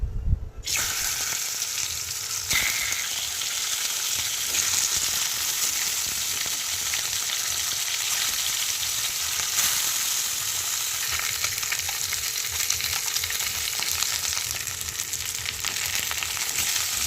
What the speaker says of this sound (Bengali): এখন আমি এই মাছগুলোকে একটু সময় নিয়ে ভালো করে উল্টে পাল্টে ভেজে নেব